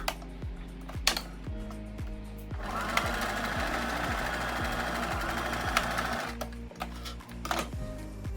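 A home sewing machine stitches the short seam of a folded trouser waistband, running in a steady, fast mechanical chatter for several seconds and starting and stopping briefly near the beginning and end, close and clear with no talking.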